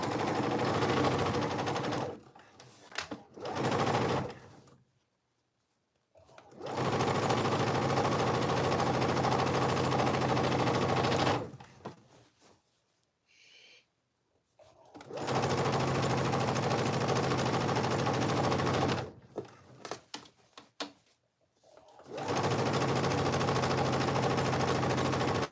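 A sewing machine stitches a cargo pants seam in three long, steady whirring runs, with quiet pauses between them, heard close and alone.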